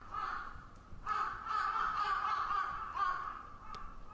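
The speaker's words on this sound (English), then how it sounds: "A crow sounded a shriek, letting the slumbering city know that morning had come." A crow caws in the video game SeaBed, several harsh repeated calls spread over a few seconds against a steady ambient bed, fairly prominent and without talk.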